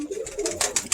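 Birmingham Roller pigeon cooing in a short run of soft, low coos, followed by a few brief, sharper bursts near the end, close by and with no talking.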